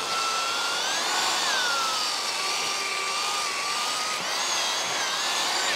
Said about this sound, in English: So what we will do, we will drill that through there.